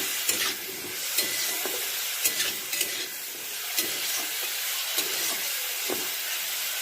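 Mango pickle with salt and turmeric sizzles steadily in a frying pan as a spatula scrapes and stirs at irregular intervals, close and moderately loud throughout.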